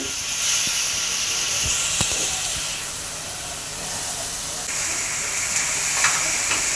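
Water added little by little into a hot wok of cabbage curry, giving a loud, continuous steamy hiss that swells and eases over several seconds, with a few faint clinks and knocks.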